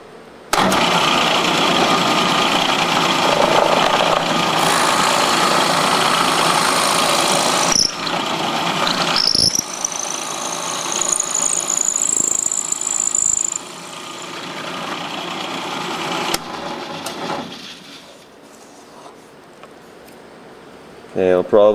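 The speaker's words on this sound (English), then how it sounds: "when you drill down about halfway, come back up to clear the chips, and then drill all the way through" A drill bit bores through a wooden top with a loud, steady motor whine. A rising squeal builds midway, then the drilling stops and fades to quieter sounds.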